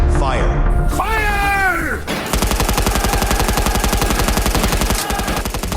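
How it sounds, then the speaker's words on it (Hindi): A strained voice-like groan gives way to a long burst of rapid, evenly spaced gunfire, loud and continuous like automatic weapons. "गोलियां बरसने लगी।"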